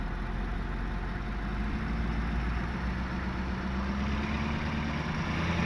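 A two-wheel-drive vehicle's engine runs at steady moderate throttle in reverse, a continuous mid-low drone that slowly rises in pitch, alone without talk.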